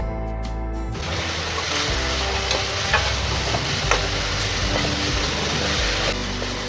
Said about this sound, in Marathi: छान परतून घेऊया आपण.